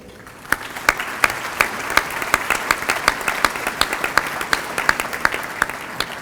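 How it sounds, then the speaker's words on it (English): An audience at an awards celebration applauds its sponsors, a steady wash of many hands with sharper individual claps standing out, sustained and fairly close without speech. "A round of applause for that group of sponsors, if we could."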